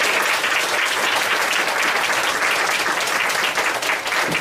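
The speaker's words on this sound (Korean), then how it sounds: "박사님 나오실 때 함께 박수로 환영하겠습니다." Steady, dense applause from a church congregation welcoming a speaker, loud and continuous throughout with no pauses.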